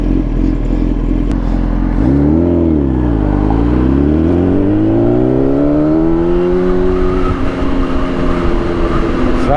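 A Kawasaki ZX10R motorcycle engine roars loudly and close, revving up and down through rising and falling pitch sweeps before settling into a steady, strong drone.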